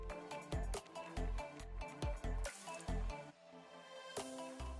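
Flour, baking soda, baking powder and salt are whisked in a mixing bowl, giving close, quick rhythmic clinks and scrapes of the whisk against the bowl with no talking.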